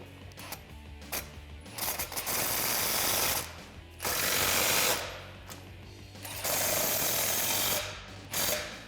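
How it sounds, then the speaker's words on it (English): A ratchet fitted with a 5/16 inch Allen socket tightens exhaust tips on a Jeep Wrangler JL 3.6L axle-back exhaust, with several bursts of rapid mechanical clicking close by, separated by brief pauses. "we can take a 5/16 inch Allen socket and tighten them up into place"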